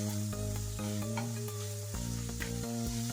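Ground meat frying in a pan for a bolognese gratin gives a steady, close sizzle that runs throughout, broken by repeated short scraping and stirring knocks, with no talk.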